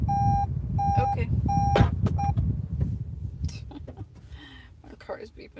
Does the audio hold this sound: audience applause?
no